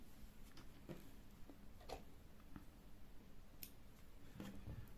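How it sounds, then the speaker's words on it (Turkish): Scissors snip crochet yarn in a few faint, sharp clicks scattered across a quiet room, close by and with no voices. "Şimdi ipimi keseceğim."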